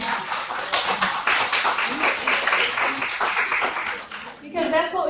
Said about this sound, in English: We'll have a round of applause for our officers.